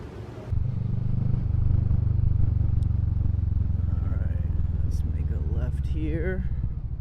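A Kawasaki Vulcan 650 motorcycle rides along the road, its steady mid-pitched engine drone and wind rumble holding close and loud throughout, with a voice talking over it.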